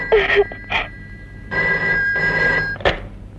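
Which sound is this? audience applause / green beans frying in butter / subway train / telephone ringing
telephone ringing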